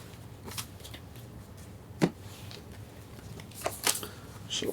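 Board game cards being shuffled at a table, soft close riffles and taps in short irregular bursts over a quiet background.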